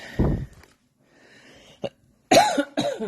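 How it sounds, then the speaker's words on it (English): A single person coughs and clears their throat in short, close bursts, with a brief hum and small gaps of near silence between the louder coughs at the end. "clear my throat and take a sip."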